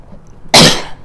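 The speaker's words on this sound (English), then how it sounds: "Excuse my cough, sorry." A single loud, close cough bursts out once after near silence, sharp and breathy with a short rough tail, from a man during a casual video game session.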